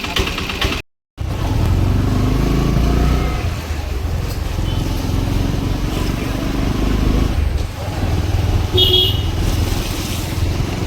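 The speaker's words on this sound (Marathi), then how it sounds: "हे बघ, काकांची रिक्षा चालू झाली." Auto rickshaw engine idling after being started, a loud steady low rumble throughout with a brief dropout near the start and a short horn-like tone later, while people talk over it.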